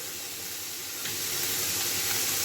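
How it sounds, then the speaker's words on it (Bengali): Cauliflower stalks, stems and leaves hit hot oil in a pan, giving a steady loud sizzle and hiss that swells slightly as more goes in, with no talking. "আর পাতা আর ডাল আমি এই গরম তেলে দিয়ে দেব।"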